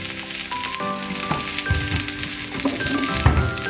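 Mushrooms and garlic frying in a pan in olive oil, with a dense, steady crackling sizzle throughout, close and loud, plus a few faint utensil knocks.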